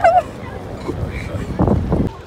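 Honking calls of city birds outdoors in Milan, a loud cry at the start followed by a few harsher calls later, mixed with background noise.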